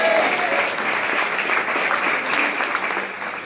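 Congregation at a church service in Mexico City applauding, a dense continuous wash of clapping that fills the room, steady and loud throughout with a faint voice briefly audible at the start.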